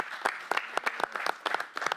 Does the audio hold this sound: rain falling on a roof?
no